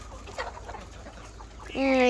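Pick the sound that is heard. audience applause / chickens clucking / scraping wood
chickens clucking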